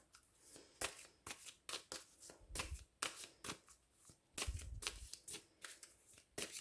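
Tarot cards being shuffled: a string of crisp, papery riffle bursts at an uneven pace, close and clear, with no voices.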